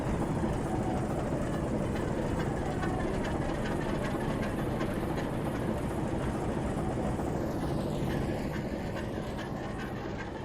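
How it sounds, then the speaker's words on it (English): Locomotive engines in a train simulator game, heard from very close: a loud, steady, dense diesel rumble and drone that runs unbroken throughout, with no voices. "the game probably seems loud because I'm super close to the engines"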